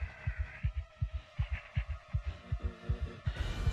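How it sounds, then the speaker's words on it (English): Steady heartbeat from the Silver Chains horror video game, a regular double-thump pulse repeating about every quarter second, fairly loud and close over a low hum, with no talking. "Oh, you hear my heartbeat? Oh yeah. It's beating at 20 FPS."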